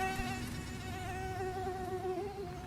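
A mosquito's thin, high whine drones continuously at close range in an animation, steady and alone with no voices.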